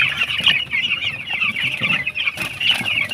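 Busy, continuous high-pitched peeping of many young chicks in a brooding pen for meat chickens, close and lively, with faint low background noise underneath.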